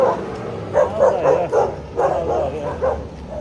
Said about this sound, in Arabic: هجوم الكلاب